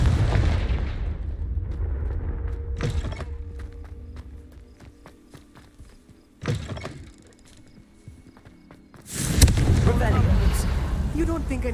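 A Confringo blasting spell explodes in Hogwarts Legacy, a sudden booming burst with a rumbling tail, followed by further loud blasts amid game sounds.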